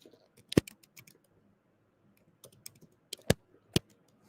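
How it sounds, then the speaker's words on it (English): Keys clatter on a computer keyboard during a live sports betting show, coming as a few sharp, scattered bursts of clicks separated by near silence, with faint room noise between. "I'm sure you love to hear me banging away on the keyboard here right now."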